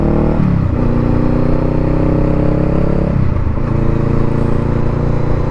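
A Honda Rebel 500 motorcycle with a Two Brothers exhaust revs up loud and close, the engine note climbing twice and dropping back in between.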